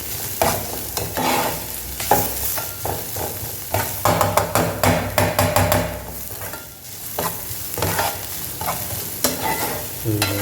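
Vegetables for veg puff filling sauté in a pan, with steady frying sizzle broken by repeated scraping stirs of a spatula, close and fairly loud throughout, no voices.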